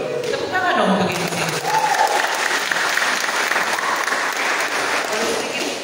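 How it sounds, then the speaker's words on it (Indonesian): An audience at a university student leadership training event applauds steadily for several seconds. The clapping is dense and sustained, with some voices mixed in. "Tepuk tangan dong untuk ini."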